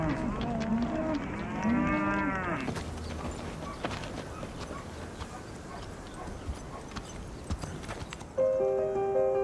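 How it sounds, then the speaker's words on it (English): Cattle mooing outdoors on a range, loud drawn-out lowing calls at the start and again at the end, with scattered thumps and clattering in between and no talking. "That's like where I think we'll find the cows."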